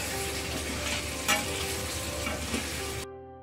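Potato pieces drop into hot oil for a village-style brinjal and potato curry, setting off a loud, steady sizzle up close with brief stirring scrapes, then the sound cuts off abruptly.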